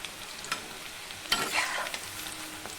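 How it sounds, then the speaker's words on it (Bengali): Chicken pakoras frying in oil and being lifted out, a soft steady sizzle with a few sharper scraping clicks and splashes of the slotted spoon, close and fairly quiet. "পকোড়াগুলো ভাজা হয়ে গেছে এবারে আমি কারণ দেখুন গোল্ডেন করে ভেজে নিয়েছি এবারে আমি পকোড়াগুলোকে তুলে নিচ্ছি"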